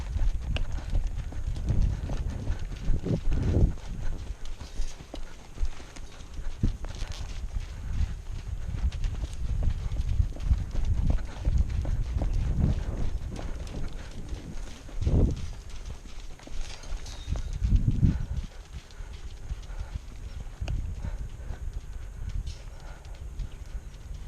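A horse's hooves clip-clop in a round pen as it is worked and roped, irregular steps and thuds scattered across the footing, fairly close, with louder bursts at intervals and no talk.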